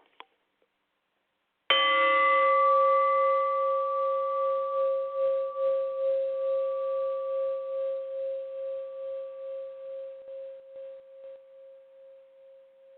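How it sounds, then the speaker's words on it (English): A single bell strike rings out clearly, then hums on with a slow wavering shimmer as it fades gradually over many seconds. "So here is the ringing of a bell."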